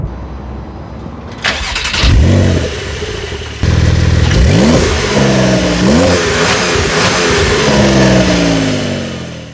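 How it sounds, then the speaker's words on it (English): Porsche 992.2 911 Carrera T engine and exhaust: the engine fires up, then several loud, rising revs with sharp climbs and drops, close and alone with no talk. "The engine sound together with the exhaust makes this car really,"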